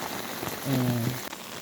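Steady rain falls at a quiet rural hideaway near Seoul, a soft continuous patter on surfaces with a brief low hum swelling in the middle.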